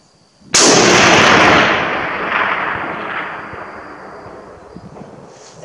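A single loud, sharp report from a Finnish M39/43 sniper rifle fired outdoors, with a long rolling echo that decays over several seconds.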